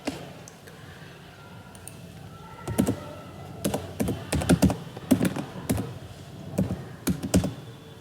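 A computer keyboard being typed on to enter a password, with quiet, irregular bursts of clicking key presses close up and short pauses between them, no talking.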